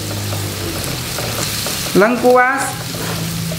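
Shallots, kaffir lime leaves and bay leaves sauté in about 50 ml of hot oil, giving a steady close sizzle throughout, with a brief spoken word partway through.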